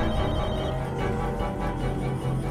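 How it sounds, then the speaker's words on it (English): A telephone rings continuously and loudly in The Walking Dead: Michonne video game, a dense, steady trilling bell that fills the whole moment with no voices over it. "Answer the phone, answer the phone."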